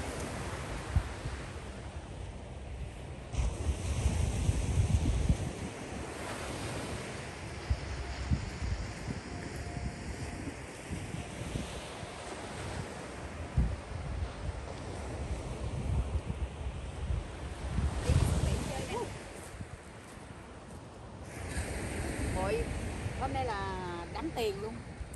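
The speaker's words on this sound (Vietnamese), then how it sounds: "Nghe sóng biển rào rào nữa." Ocean waves surge and crash at Deception Pass, a strait in Washington State, as a continuous rushing roar with heavy wind buffeting the microphone and faint voices in the background.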